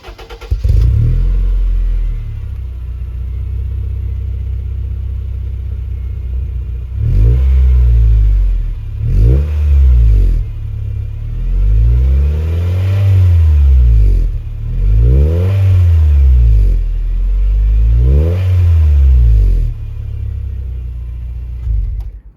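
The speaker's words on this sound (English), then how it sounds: "So it also comes with an aftermarket Fujitsubo exhaust, which sounds quite nice. It doesn't sound raspy, it sounds deep and quite bassy." A 2007 Honda Fit GD3 with an aftermarket Fujitsubo exhaust idles steadily, then revs in several repeated blips, each rising and falling, with a deep, bassy tone, loud and close, with no talking.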